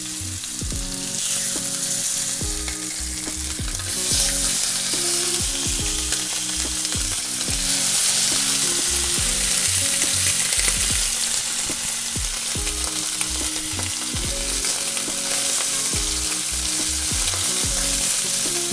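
Lamb chops searing in a preheated hot skillet, a loud continuous sizzle and spatter with occasional stirring scrapes, running steadily close up with no talking.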